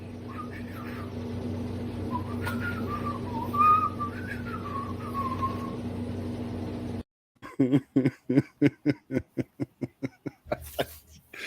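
A steady whistled melody plays over a droning background, then cuts to a rapid run of punchy rhythmic hits as the beat drops.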